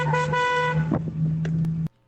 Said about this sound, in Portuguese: Vamos ver se vocês estão espertos nessa buzina